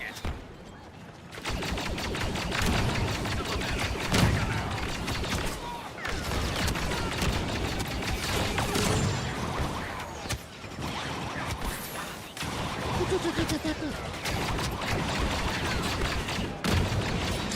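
Dense, continuous gunfire and blasts from a Star Wars Battlefront II match played with mods, rapid bursts and booms layered throughout with brief lulls, loud and close.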